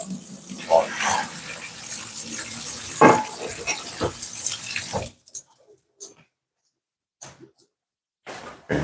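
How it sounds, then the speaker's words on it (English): Pasta water pours and splashes into a kitchen sink for about five seconds, a steady loud rush, before stopping into near silence broken by a few short clattering knocks. "So I'm just draining the rest of the pasta."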